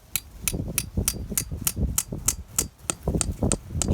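A steel spile is hammered into a maple tree's trunk, about a dozen evenly spaced sharp metallic taps, each with a bright high tick and a low thud, repeating steadily and close.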